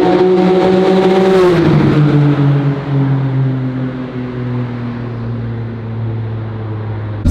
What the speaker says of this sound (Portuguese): A Z4 acelerando, agora é a vez da Z4 acelerando na rua.